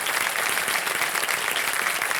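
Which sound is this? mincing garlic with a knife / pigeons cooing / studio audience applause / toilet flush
studio audience applause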